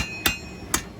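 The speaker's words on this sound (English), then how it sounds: "the sparks that fly when you're forge welding" A blacksmith forge welding a steel fireplace poker: three sharp, ringing hammer strikes on hot metal, evenly spaced about half a second apart, close and clear against a quiet background.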